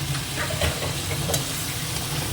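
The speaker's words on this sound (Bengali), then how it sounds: "এবার দিয়ে দেবো এই মিষ্টির বাটি ধোয়ার জল" Water used to rinse a sweets bowl hits a hot pan of cooking potato-poppy curry and sets off a loud, continuous sizzle and hiss that runs without a break.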